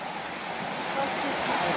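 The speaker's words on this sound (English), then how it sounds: "Look at this little creek" Small creek on a hike near Honolulu, its flowing water making a steady, close rushing hiss with no clear breaks.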